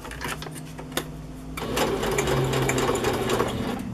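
A sewing machine stitches a pocket for a handmade boho journal, starting with short bursts and then running as a steady, close, continuous mechanical whir.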